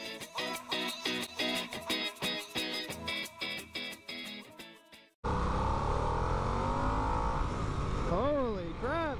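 A Harley-Davidson Nightster motorcycle engine while riding, first as a choppy throttling rhythm, then a loud continuous roar of wind and engine under a rider's talk, rising and falling in pitch near the end.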